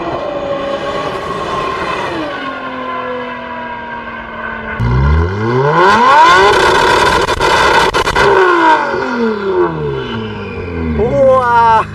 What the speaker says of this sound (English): the GTR is going to be coming back down this road, and I'm sure we're going to hear it before it even gets here